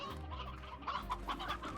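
Video game chickens in Slime Rancher cluck in short, choppy bursts, a few close, soft clucks overlapping quickly in a brief sequence.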